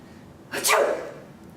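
One close, forceful sneeze with a breathy sharp onset that fades quickly, heard alone.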